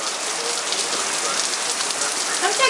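On a rainy day, rain patters and hisses steadily on a hard surface outdoors, a close, bright, unbroken wash of drops with a faint voice briefly behind it.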